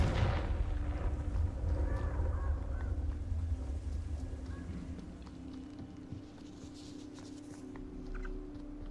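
Confringo fire spell blasts in Hogwarts Legacy, heavy booming bursts and rumbling impacts over a continuous game soundscape, loud and close, with spell calls voiced over the action.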